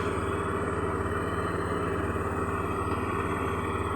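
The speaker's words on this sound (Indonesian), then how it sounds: "Oke, tarikan gas awal spontan ya, tanpa berebet lagi, dan kita coba geber" Honda Beat fuel-injected motorcycle engine running steadily at close range, a dense even throb that holds loud and constant without any clear rise in revs.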